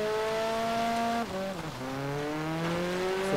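A car engine in Forza Horizon 3 revs hard and strains uphill while the clutch slips, its pitch dropping and then climbing again as it labours up the slope.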